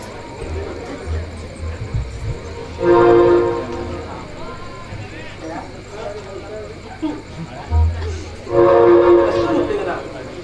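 On stage in a Konkani play, performers' voices imitate a train, with two loud horn-like blasts and rumbling chug sounds between them, mixed with background voices.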